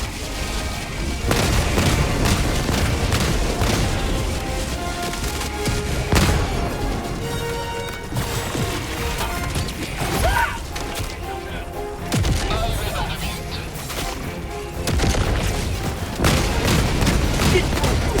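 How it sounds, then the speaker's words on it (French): Video game combat with booming explosions and continuous rapid gunfire filling the scene, loud and dense, with voices occasionally heard under the din. "Balance une grenade."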